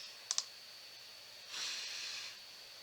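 A computer mouse gives a quick double click to undo, two faint sharp ticks close together in a quiet room, followed by a soft breathy hiss.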